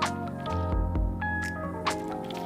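Wet, squishy squelches of a gloved hand kneading and mixing meat and rice stuffing for stuffed peppers in a bowl, close and alone with no talking.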